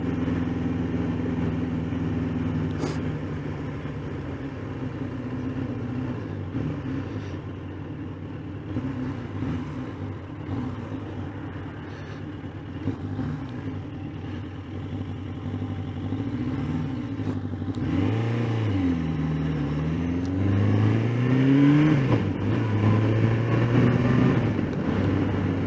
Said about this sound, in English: Once the motorcycle warms up, the engine pulls very strongly